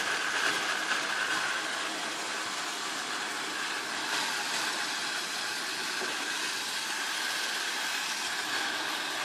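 A 2014 Trackmaster Gator toy train running on its track with its wheels spinning as it struggles up a slight incline, giving a steady, even motor whir without pauses and no voices.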